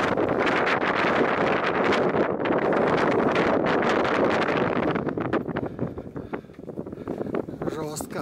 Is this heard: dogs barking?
no